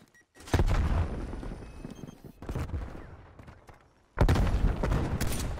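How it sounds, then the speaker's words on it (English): A grenade blast in the video game Call of Duty Cold War: loud, booming broadband bursts that roll out in three heavy waves, with gunfire-like crackle and rumble between them and no talking. "Toss that grenade."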